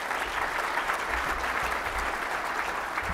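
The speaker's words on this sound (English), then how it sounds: "round of applause" Steady audience applause at an economic outlook conference after a presentation, dense and continuous clapping from a crowd holding an even level throughout.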